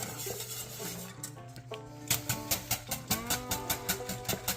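Oxtail gravy with mushrooms and onions stirred in a pot, rhythmic scraping and clinking strokes close up, steady and repeated over a low background hum.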